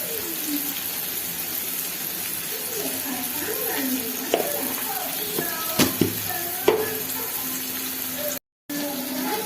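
Masala with turmeric sautés in a pan for a Tamil quail fry, sizzling steadily with scraping stirs and a few sharp clinks, while a person talks over it.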